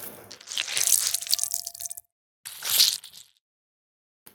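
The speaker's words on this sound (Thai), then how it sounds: "บีบมะนาวลงไป" Lime being squeezed onto salted raw fish for Lao-style koy pa, giving a wet crunching, squishing sound for two seconds, a brief pause, then a second shorter squeeze, close and clear with no talk.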